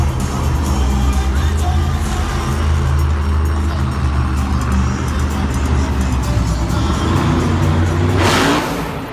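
Monster Mutt monster truck roaring through a sky wheelie at a Monster Jam arena show in Lincoln, Nebraska, a loud sustained engine drone mixed with crowd noise, ending in a sharp bang.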